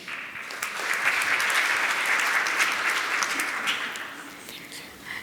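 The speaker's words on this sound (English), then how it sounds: "Please welcome her with a huge round of applause again." Sustained crowd applause at a panel discussion, dense clapping from many hands that swells and holds, then gradually thins out toward the end.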